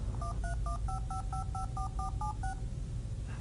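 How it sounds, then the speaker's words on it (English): An Apple Newton handheld from 1993 dials a phone number automatically, producing a quick, even run of about eleven touch-tone beeps over a steady low hum, with no voices. "Newton looks up the phone number, displays it, and even dials the phone."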